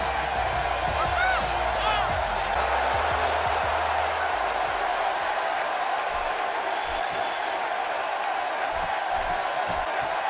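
Loud, sustained crowd noise fills an arena, a constant roar of cheering with a few brief sharp sounds early on, in the wrestling video game WWE 2K.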